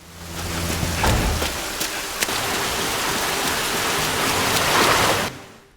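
Heavy rain pours at night in a Korean film scene, a dense, loud, continuous hiss of falling water with a few low rumbles, fading out at the end.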